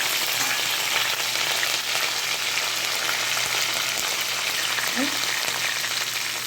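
Green chillies and curry leaves fry in hot oil with fennel seeds, giving a steady, dense sizzle that fills the whole stretch at an even level, close and continuous without pauses.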